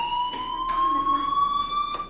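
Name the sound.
fire alarm ringing in video game Life is Strange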